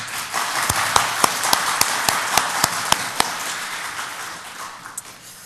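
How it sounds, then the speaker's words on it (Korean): Church congregation clapping for the choir at a Sunday morning service: about ten evenly spaced, crisp claps in unison, beating at a steady rhythm before trailing off into a few isolated ones. "우리 찬양대원들을 위해서 크게 박수로 한번"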